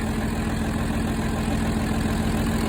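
A John Deere 4320 diesel tractor idles after a cold start with a steady, dense, loud engine drone and an even low throb that runs unbroken throughout, close by.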